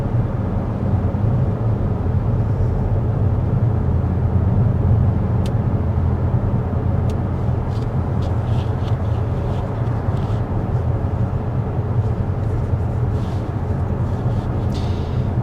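Inside a 2024 BMW X5 M Competition cruising at 55 mph with the fan on low, a loud, steady low-frequency road and tire rumble fills the cabin, with a few faint clicks and no talking.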